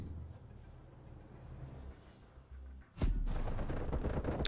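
Gunfire from a budget Tech 9-like weapon in Call of Duty Black Ops Cold War, a loud burst erupting abruptly after quieter game ambience and continuing as rapid rattling shots to the end.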